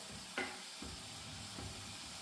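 Pork frying in hot oil gives a steady, close sizzle with a couple of faint stirring scrapes and no talking.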